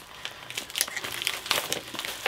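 A plastic bag crinkles and rustles while a package is unpacked, close and fairly quiet, in irregular crackling bursts with no talk.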